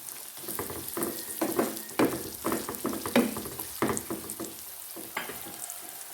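Chopped onions sauté with salt in a pan, a continuous sizzle broken by bursts of scraping as they are stirred, close and fairly loud, with no talking.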